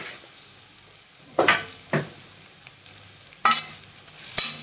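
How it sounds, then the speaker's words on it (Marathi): Mung beans, green chilies, turmeric and red chili powder are sautéed in a pan: a low, steady sizzle with a few sharp spatula scrapes and taps spaced across the moment, nearby and fairly quiet, no voices. "परतून घ्यायचं चांगलं।"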